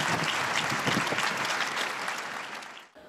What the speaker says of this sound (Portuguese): Um aplauso à nova beata.